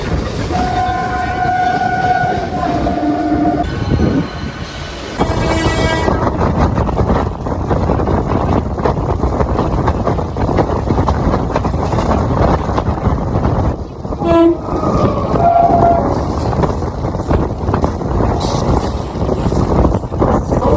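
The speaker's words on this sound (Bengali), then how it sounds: "আমাদের ট্রেন ঢুকে গেল বেলুর স্টেশনে" A suburban train near Kolkata pulls into Belur station with a steady loud rumble of wheels and carriages, and brief horn tones sound near the start and again midway.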